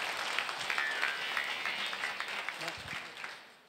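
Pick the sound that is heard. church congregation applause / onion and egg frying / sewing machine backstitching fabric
church congregation applause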